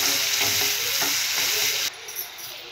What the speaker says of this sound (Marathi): आता आपण त्यावर बारीक चिरलेला कांदा घालूया।